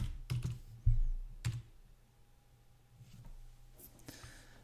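Keys clack on a computer keyboard as a terminal command is typed, a few sharp, separated keystrokes close and quiet in an otherwise still room with faint hum.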